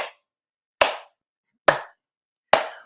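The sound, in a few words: slow clap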